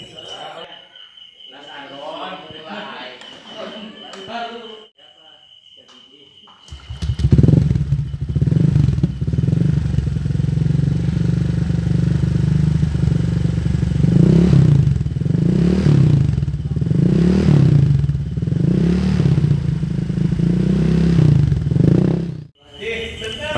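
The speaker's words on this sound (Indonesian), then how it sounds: "gue pengen ngerekam suaranya knalpot yang sekarang sebelum diganti glass woolnya" A Honda Vario scooter with a CMS aftermarket exhaust, before its glass wool is replaced, starts after a few seconds of talking and then idles loudly close by, a steady rumble with repeated throttle blips.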